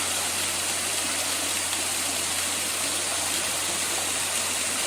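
Steady, loud rushing of flowing water, continuous and unbroken, like a creek running close by.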